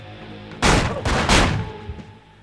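Enemy gunfire in the Manhunt video game: a close, loud burst of three quick shots in a row, followed by a smaller crack and then fading quiet.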